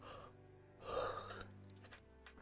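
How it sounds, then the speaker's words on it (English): A person yawns at a desk while coding, a drawn-out breathy yawn swelling in the middle and tapering off, close and fairly quiet, alone with no talk. "I'm yawning now"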